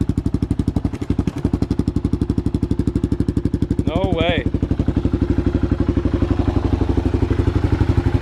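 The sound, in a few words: motorcycle engine running, exhaust rattling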